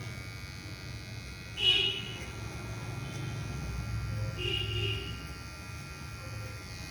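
A small electric hair clipper set to zero hums steadily while cutting hair during a military-style haircut, a low continuous buzz with slight swells as the blades move, close and fairly quiet.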